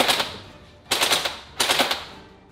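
Video game gunfire in three rapid automatic bursts, each a sharp rattling volley separated by short pauses, loud and close with no talking.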